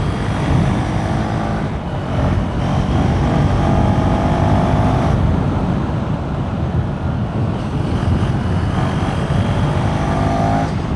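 A KTM 390 SMC-R motorcycle engine drones loudly on a test ride, its single-cylinder note rising and falling with throttle changes amid heavy wind rush.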